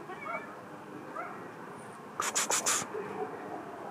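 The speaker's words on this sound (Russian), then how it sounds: "Не пойму, где там мяукает кошка?" A cat meowing faintly from another room indoors, a few short soft meows spread apart, followed by a brief burst of scratchy rustling.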